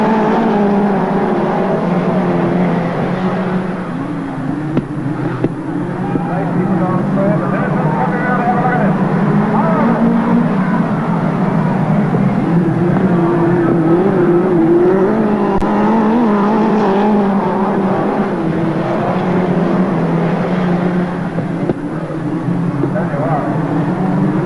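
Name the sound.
midget race cars racing at Western Springs Speedway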